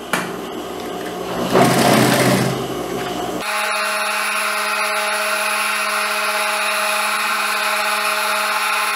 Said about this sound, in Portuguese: E agora eu só venho com a costura passando o pesponto.